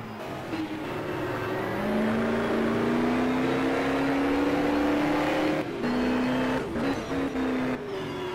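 Touring race cars at the 1985 Wellington 500 km street race, engines howling loudly as they rise in pitch through the gears and pass close by, with brief drops between shifts.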